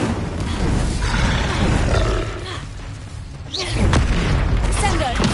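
Fiery spell blasts in the Hogwarts Legacy game: a roaring, booming whoosh that swells twice with rumbling low end, loud and close amid continuous combat effects.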